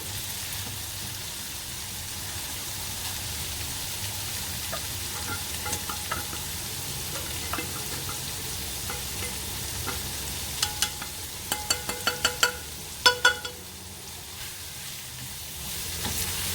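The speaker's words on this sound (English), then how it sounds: "So cook the tuna well with the oil and make sure all the ingredients get incorporated well." Tuna fries in oil with softened vegetables in a pan for a cheesy basil pasta, making a low steady sizzle. A run of sharp spoon and pan clicks comes near the end, and no one speaks.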